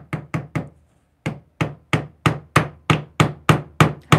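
A hammer drives upholstery tacks into grain sack fabric with about a dozen sharp, close, loud knocks: a few quick strikes, a short pause, then a steady, evenly spaced series.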